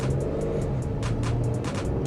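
A 2021 Toyota Kluger V6 engine drones loudly and close, with a rising rumble as it accelerates, plus faint ticking and whooshing overhead.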